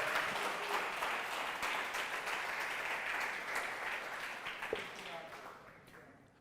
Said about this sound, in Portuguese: Pode aplaudir que é para o Senhor.